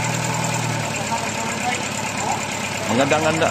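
The engine of a grinding mill runs at a steady idle, a constant mechanical drone up close with a rougher rise near the end while someone talks over it.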